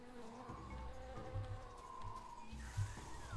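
A faint insect buzz drones in a noisy jungle scene from the adventure game Tales of Monkey Island, a thin continuous whine with low rumbling ambience beneath it.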